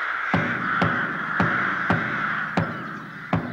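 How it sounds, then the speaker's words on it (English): Crows give a run of harsh caws at a steady pace, about six calls ringing out clearly in open air with no talking. "I never did like you pesky birds neither."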